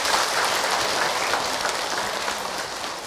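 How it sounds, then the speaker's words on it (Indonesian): Dense, steady applause from a large audience at an Islamic religious lecture, a continuous wash of many hands clapping at even loudness for about three seconds with no talk over it. "Tepuk tangan untuk kita semua."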